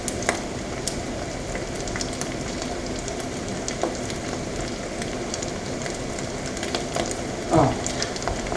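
An egg sizzles in a pan with pineapple pieces, a steady close frying crackle with small pops and one brief scrape near the end.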